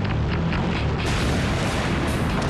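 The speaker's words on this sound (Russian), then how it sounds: "Но ракета взрывается на высоте всего 9000 метров над землей." A rocket exploding in the air at about 9000 metres after a flawless launch, a dense, sustained roaring boom that fills the whole clip at high loudness with no pause.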